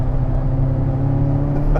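A 1,064 hp Chevrolet Corvette ZR1 engine pulls hard on the Circuit of the Americas race track, a loud, steady, close-up roar with a deep, constant drone and no voices.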